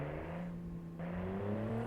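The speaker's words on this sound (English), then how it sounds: "Sounds like a Porsche race car?" A 1980s car in the driving game BeamNG.drive revs its engine, giving a steady, loud engine drone whose pitch climbs and dips a little over a couple of seconds. It is heard alone, with no talk.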